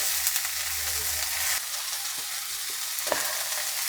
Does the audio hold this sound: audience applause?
no